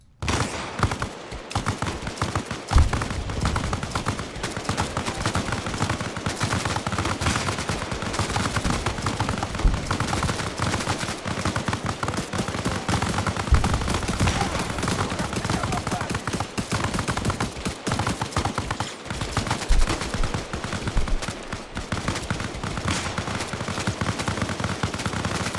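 Sustained weapons fire in the ARMA Reforger video game during a World War III battle in Afghanistan, rapid machine-gun bursts and overlapping rifle shots crackling continuously, loud and dense throughout with little pause.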